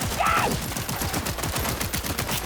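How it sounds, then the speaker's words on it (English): Rapid automatic gunfire in Cyberpunk 2077, a dense, loud, continuous burst of shots throughout with a brief tonal effect early on. "Oh, now she's shooting at me."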